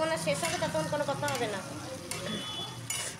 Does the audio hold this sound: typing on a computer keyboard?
no